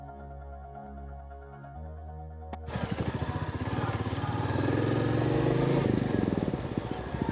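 Royal Enfield Meteor 350 motorcycle with a freshly replaced chain and sprocket set: a low idle thump gives way to a loud, pulsing single-cylinder engine pulling away and revving steadily on a test ride, close and continuous.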